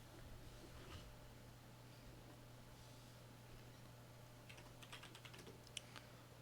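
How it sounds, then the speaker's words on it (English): Faint keystrokes on a computer keyboard come in a quick run of soft clicks near the end, over a low steady room hum. "I'm just going to type it up for the chats."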